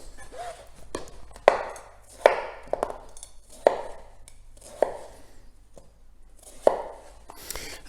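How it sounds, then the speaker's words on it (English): A knife chops courgettes into cubes on a board, giving about eight sharp, separate thuds at an uneven, unhurried pace, close and clear with little else around them. "I can then cut downwards to create my cubes"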